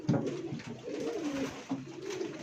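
Pigeon cooing in a close, repeated rumbling pattern, several soft throaty phrases running back to back from a nearby bird kept in a loft, with no talk.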